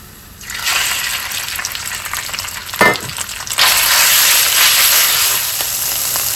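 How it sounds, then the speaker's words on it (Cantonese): Pork sizzles loudly in a hot wok during stir-frying, a steady broad hiss that starts after a brief quiet moment, dips with a clatter, then surges louder and holds to the end. "放晒啲豬肉落去啦"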